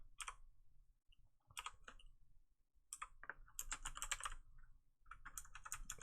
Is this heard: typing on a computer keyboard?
yes